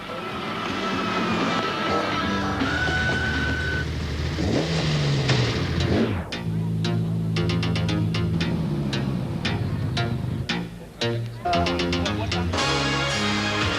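Rally cars from the 1988 Volkswagen Algoa Rally pass through the town of Uitenhage, engines loud and roaring, revving as they go by. Music plays over them, and rhythmic beats take over in the second half.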